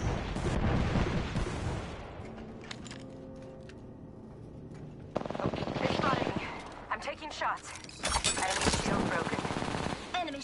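Fuse's knuckle cluster explodes in Apex Legends amid heavy firefight noise, rapid bursts of crackling blasts and gunfire in loud waves with a calmer stretch between them, mixed with voices.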